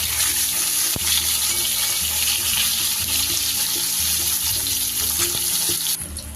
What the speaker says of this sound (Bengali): বেগুনগুলোকেও আমি ভালো করে একটু ভেজে নেব।